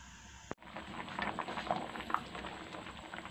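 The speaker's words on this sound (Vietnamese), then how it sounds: "cái nồi canh của mình nó sôi trở lại" A pot of gourd and clam soup at a rolling boil, a steady bubbling and popping close by with a brief sharp clatter near the start, then continuous simmering patter.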